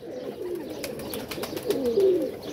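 Pigeons coo in low, rolling calls, a clearer bout near the end, among flying pigeons kept for a pigeon-flying competition, with faint clicks in the background and no talk.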